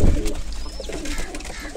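Pigeons coo softly in a breeding loft, a brief low throaty burble close by with faint background chatter of other birds.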